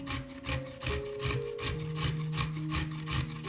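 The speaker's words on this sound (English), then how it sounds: "Grate 1 carrot on a coarse grater." A carrot is rubbed against a coarse grater in quick, regular strokes, each a scratchy rasp repeating about three times a second, close and clear, with faint tonal hum underneath.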